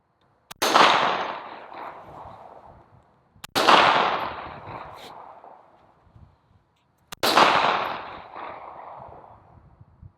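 Three loud, sharp pistol shots fired at shooting targets, evenly spaced about three seconds apart, each cracking close by and followed by a long echoing decay outdoors.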